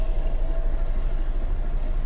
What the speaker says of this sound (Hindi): अपनी ट्रेन ने डिपार्चर लिया है मारवाड़ जंक्शन रेलवे स्टेशन से